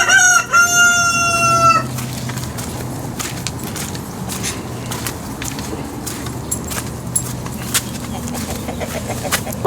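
A rooster crows loudly up close at the start, then chickens cluck and scratch around softly amid shuffling and light clatter.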